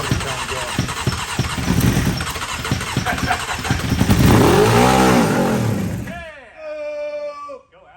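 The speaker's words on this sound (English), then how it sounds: "The backfire here and be still. That's only one cylinder trying to go." A Honda CBR motorcycle engine sputters and pops unevenly while running on only one cylinder. The loud, rough firing swells and then cuts out, and a voice is heard over it near the end.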